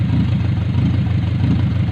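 A second-generation Honda CR-V engine with a misfire on cylinder four idles with a loud, steady, low rumbling drone, heard close up and uninterrupted.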